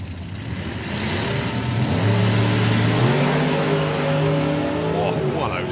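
A drag racing car at a hot rod drag strip event, its engine roaring loudly and rising in pitch as it accelerates down the track, with a commentator talking over the engine noise.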